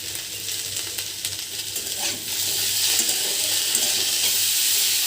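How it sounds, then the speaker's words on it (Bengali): Chopped potato and pointed gourd frying on high flame with salt, turmeric and green chilli, a bright hissing sizzle that swells louder partway through as the vegetables are stirred, close and continuous without speech. "হাই ফ্লেমে 1 মিনিট ভেজে নিয়েছি।"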